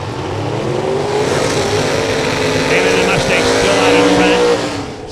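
Drag racing cars, one a Mustang, launch and roar down the strip at a Topeka drag race, the engines rising to a loud, sustained howl under an announcer's commentary.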